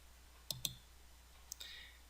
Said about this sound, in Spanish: debemos de dar clic derecho sobre la ventana de circuito